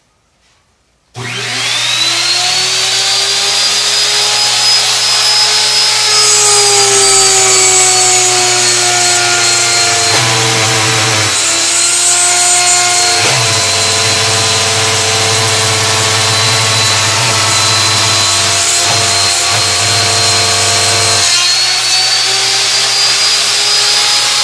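Power router cutting a groove channel into wood for a drawer side, a loud continuous whine that holds steady for the full stretch after a sudden start, with brief dips in pitch as the bit bites in.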